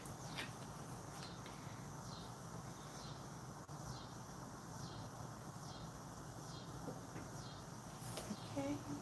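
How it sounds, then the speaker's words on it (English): Outdoor insect chorus of cicadas and other insects: a dense, continuous buzzing hum with repeating pulsing chirps, faint and steady in the background. "We've got a bunch of like little insects and cicadas and stuff."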